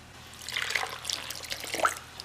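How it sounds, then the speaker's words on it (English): Water pours into a crockpot for taco soup, a short close trickle with splashy bursts and drips rising and falling over a couple of seconds. "I'm going to fill this with water."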